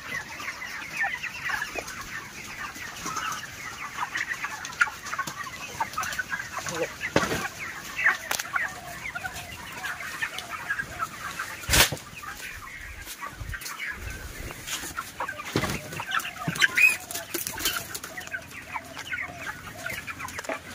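Broiler chicks on a poultry farm clucking and peeping in a steady busy chorus, moderately close and fairly soft, with occasional louder bumps and no talking.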